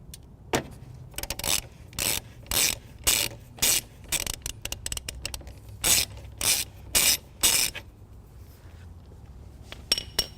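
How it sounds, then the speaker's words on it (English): A ratchet loosens the positive battery terminal nut on a 2019 Dodge Journey, giving close, crisp bursts of rapid clicking in a steady back-and-forth rhythm, about a dozen strokes with short pauses between. "Loosen our positive terminal."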